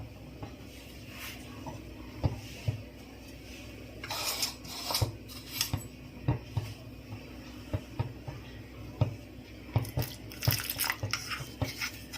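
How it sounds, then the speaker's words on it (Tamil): Water is poured into a small bowl of cornflour and stirred with a spoon, giving a soft running trickle broken by repeated sharp clinks and scrapes of metal on the dish, close and without speech. "இதுக்கு வந்து கொஞ்சம் தண்ணி ஊற்றி கரைச்சிக்கலாம்."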